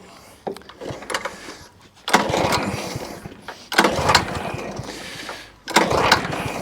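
Honda GXV160 engine on a Kaaz lawn mower being pull-started after a gearbox repair: three rough bursts of cranking and sputtering engine noise, each followed by a short lull, with a brief mechanical clunk at the start.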